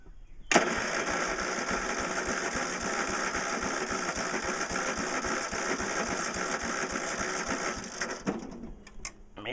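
A Sears garden tractor's small engine cranks steadily and loudly for about eight seconds, a fast whirring churn that fails to catch before cutting off, followed by a few brief clanks.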